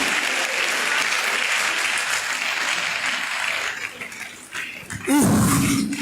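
A church congregation claps in a broad, even burst of applause that fades toward the end, followed by a loud, sudden low rumbling sound near the close.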